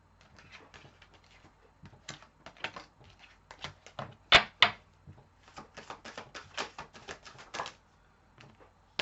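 Tarot cards handled and shuffled at close range, a run of crisp irregular riffling and tapping bursts with a few louder snaps near the middle, no talking.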